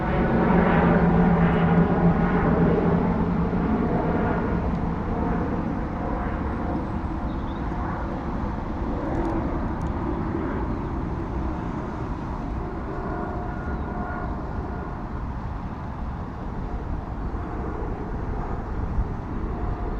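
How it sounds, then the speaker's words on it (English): A Lufthansa Airbus A320 bound for Munich departs London Heathrow with a loud, steady engine roar that holds through the whole stretch and eases only slightly toward the end, with no talk over it. "A320 headed to Munich in Germany. Lufthansa aircraft."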